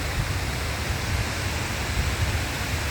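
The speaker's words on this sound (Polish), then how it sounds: "Tutaj też widzowie widać piękny wodospad." Waterfall at a castle site near Barcelona, a steady broadband rushing roar of falling water that holds constant and loud throughout, with no voices.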